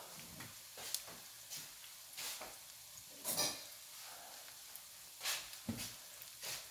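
Courgette fritters fry quietly in a pan, a faint sizzle punctuated by soft clicks and scrapes of a spatula at irregular intervals.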